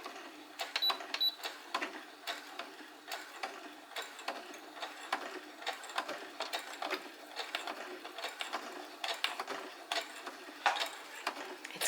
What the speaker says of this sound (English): I'm gonna try to sew right here.